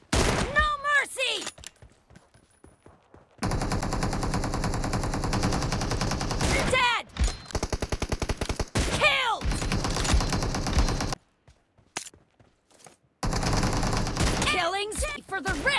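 Automatic gunfire rips through a BGMI Mobile match in long sustained bursts broken by short silences, loud and close, with brief announcer-style voice lines between the volleys.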